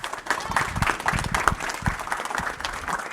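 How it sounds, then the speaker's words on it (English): An audience at a Respawn Entertainment developer panel claps in a brief burst of uneven, scattered applause, with some voices mixed in. "Can we have an applause, everybody?"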